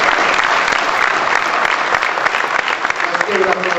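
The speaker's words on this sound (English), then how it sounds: "Let's give him a round of applause." A crowd applauds loudly and steadily for basketball pioneer Earl Lloyd, an early NBA player, at a 2012 presentation, with dense clapping filling the whole stretch.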